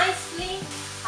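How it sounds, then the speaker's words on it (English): Mushrooms sautéing in a pan give a brief, steady sizzle that stays close and fairly loud for about a second, with no voices. "My mushrooms have been sauteing for 1 minute."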